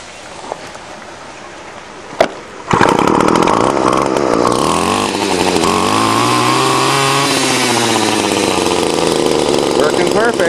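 A repaired weedeater string trimmer with new fuel lines and a cleaned carburetor is pulled twice, then its small two-stroke engine catches and runs loudly and steadily, the pitch wavering as the throttle changes.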